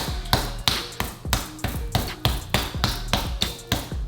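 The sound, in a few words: punching raw meat by hand to tenderize it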